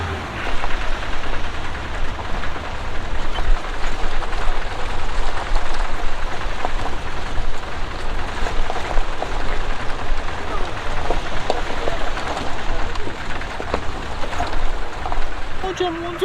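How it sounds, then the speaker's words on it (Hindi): Rain falls steadily in Sharan Forest near Balakot in the Kaghan Valley, a dense, even hiss of drops on leaves and surfaces that continues throughout, fairly loud and close. "भाई यहाँ पर बारिश शुरू हो चुकी"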